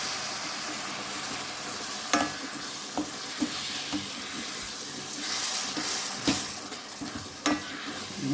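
Fenugreek and mustard seeds frying in oil for a garlic pickle, a steady close sizzle with occasional stirring clinks and a few sharp pops, no talk.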